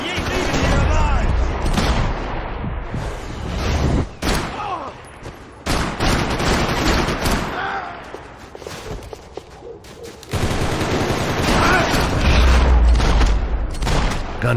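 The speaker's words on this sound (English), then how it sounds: "Gunfire over Hoboken." Loud, dense gunfire in the Max Payne 3 video game: rapid bursts, booming shots and thuds, with shouting voices mixed through the chaotic firefight.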